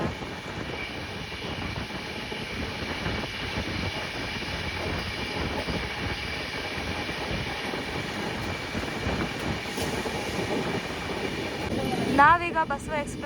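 A passenger train overtaking the Basava Express past Malleshwaram on the Bagalkote to Bengaluru line, a steady low rolling roar from on board with a louder clattering burst near the end and some talk over it.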